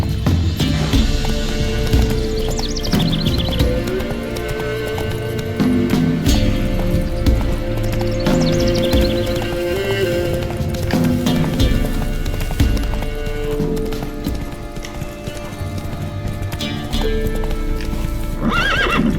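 A horse in The Witcher 3 gallops with steady, close clip-clop hoofbeats and lets out loud neighs and whinnies, continuous and prominent throughout.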